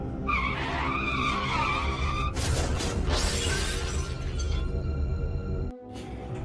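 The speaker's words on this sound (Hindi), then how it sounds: "लगता है इस टक्कर से सौंदा पोटी बॉय का भी कीमा बन गया है।" A cartoon car screeches and skids, then smashes into a rickshaw with a shattering crash. The noise is loud and continuous, ending in a brief quiet gap.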